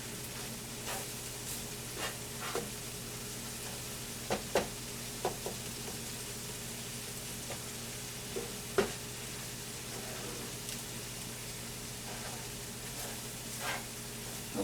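Flour browning in a pan for gravy gives a soft, steady sizzle with occasional stirring scrapes and small clicks, fairly quiet and without talk.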